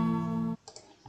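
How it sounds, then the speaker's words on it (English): A guitar strum sound effect in Scratch rings out as a bright, buzzy chord for about half a second, then cuts off abruptly, followed by a few faint clicks. "So I got like a guitar strum sound."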